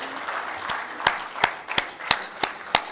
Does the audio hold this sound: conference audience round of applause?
yes